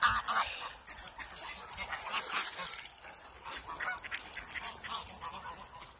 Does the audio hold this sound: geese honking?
yes